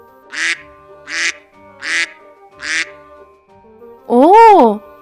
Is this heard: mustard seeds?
no